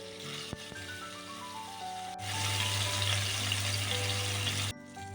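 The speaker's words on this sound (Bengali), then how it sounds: "সেই গরম তেলের মধ্যে এখন দিয়ে দিচ্ছি ম্যারিনেট করা মাছের পিসগুলো" Marinated rohu fish pieces dropped into hot mustard oil: a sudden loud, steady hiss of frying bursts in, holds as a dense sizzle for a couple of seconds, then cuts off abruptly.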